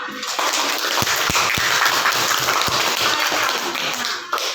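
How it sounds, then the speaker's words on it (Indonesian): A classroom group claps together during a lesson, a fairly close, bright patter of hands with a few sharper individual claps standing out, lasting a few seconds before stopping abruptly. "Oke, tepuk tangan dulu untuk kita semua"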